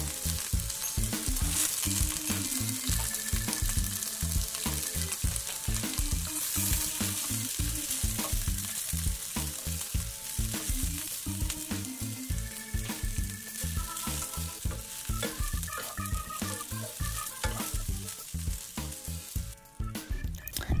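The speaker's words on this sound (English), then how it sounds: "we're going to cook it until the beans are charred but still crispy" Pork mince and green beans stir fry in a hot pan until charred, a loud steady sizzle with rhythmic scraping and tossing of the spatula running continuously for about twenty seconds, with no talking.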